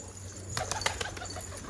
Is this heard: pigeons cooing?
yes